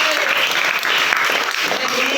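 A burst of clapping from a class of students, loud and continuous, with a voice briefly audible beneath it.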